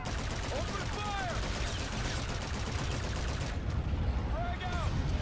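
Sustained gunfire in a Call of Duty: Infinite Warfare campaign firefight, a dense continuous rattle of energy-rifle shots with whooshing sweeps layered over it, loud and steady throughout.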